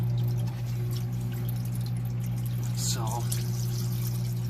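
Water runs and splashes while a 1971 Triumph Tiger 650cc engine case is washed and scrubbed, a steady low hum underneath and someone talking over it.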